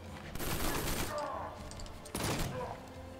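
Deathstroke's gun firing in the fighting game Injustice: Gods Among Us, two dense bursts of rapid gunfire, the second starting abruptly after a short lull.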